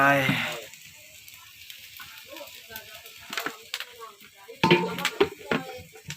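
Cooking oil sizzles in a pan while chicken is prepared in a rural kitchen, with hissing and crackling bursts rising and falling around a person speaking.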